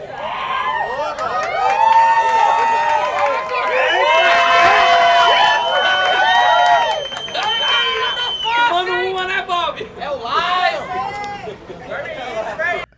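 A lively crowd cheers, whoops and shouts at a giant pastelle eating event, with loud excited voices rising and falling and bursts of cheering that fade to scattered chatter.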